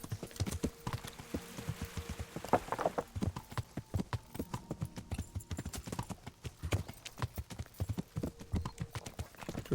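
Hooves of a galloping horse in the medieval game Kingdom Come: Deliverance pound out a fast, steady, close rhythm for nearly ten seconds, with no talk.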